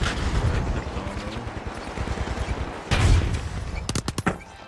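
Video game gunfire from an AK rifle: rapid bursts of loud shots crackle in quick succession, then a cluster of sharp, bright reports near the end, with a dense game soundscape behind them.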